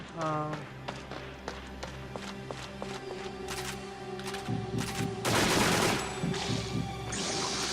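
Gunfire rings out in the video game Extermination, a run of sharp, evenly spaced shots followed by a louder, denser burst near the middle, layered over game music and effects.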